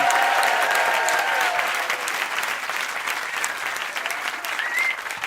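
An audience at République applauding and cheering, a dense, steady wash of clapping with whoops and cries over it that holds throughout and eases slightly toward the end.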